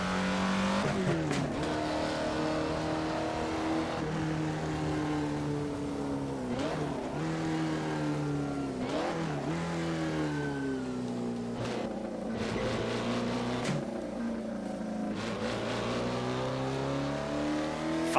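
An Alfa Romeo 33 Stradale in Assetto Corsa revs hard through the gears, engine note climbing and dropping with each shift, short blips between changes and occasional tire squeal, loud and continuous with no talking.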